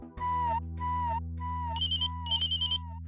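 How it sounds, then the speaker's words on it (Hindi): A mobile phone rings indoors in a Hindi TV drama scene. It plays a repeating melodic tune in short phrases with bright chiming bursts over a steady low hum, at moderate volume. "अरे तपस्या का फोन"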